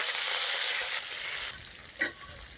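Nenam leaves dropped into hot oil for a Manipuri dish, a bright hiss of sizzling that drops off after a second, then a softer crackle with a brief clink.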